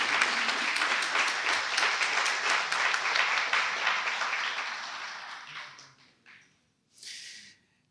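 A church congregation gives a strong round of applause during a Spanish-language sermon, full and steady at first, then thinning out and fading to near silence, with a brief stray noise afterward.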